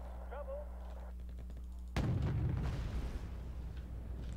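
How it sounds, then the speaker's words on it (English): A tank firing its guns in the wargame Wargame: Red Dragon: a sudden heavy boom partway through, followed by rumbling, crackling impacts and echoing bursts over a low engine drone, with a faint voice before the shot. "Oh, my tank's shooting."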